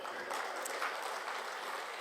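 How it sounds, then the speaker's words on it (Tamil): An audience at a live Tamil stand-up comedy show claps in a brief, steady burst of moderately distant applause. "இந்த வலுக்கட்டாமல் கைதட்டுற தயவுசெய்து நிறுத்திடுங்க"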